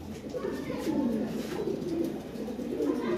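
Lahori pigeons coo softly and repeatedly close by, a low rolling murmur over a short stretch, with faint background noise.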